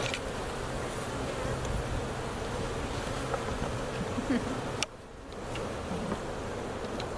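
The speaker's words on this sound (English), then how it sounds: "There's just bees on this side." Honey bees buzz steadily around an open hive in a club apiary yard during an October hive inspection, a dense continuous hum close by with a brief dip near the end.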